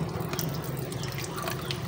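Water runs steadily from a tap into a kitchen sink while ingredients for ginataang lambay, a crab dish cooked in coconut milk, are washed, giving a continuous close splashing hiss.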